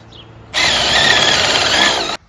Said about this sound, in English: I'm going to drill a small pilot hole first